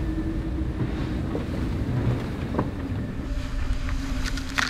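Racing sailboat at sea in the Volvo Ocean Race, with constant wind roar and buffeting, rushing water and waves slapping against the hull and deck, loud and close, with no talk.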